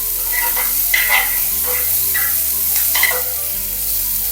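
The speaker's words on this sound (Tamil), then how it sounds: "இந்த பூண்டும் போட்டு நல்லா வதங்கணும்." Garlic sautéing in a pan for vendakkai kara kuzhambu, a steady close sizzle with scraping stirring strokes that come and go over a continuous low hum.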